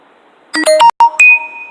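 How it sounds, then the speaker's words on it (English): A computer notification chime pops up during a livestream, a short run of bright electronic tones climbing to a sustained ringing note that fades out, loud and alone with no talk. "Notification pops up."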